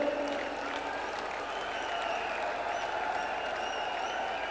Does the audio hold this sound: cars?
no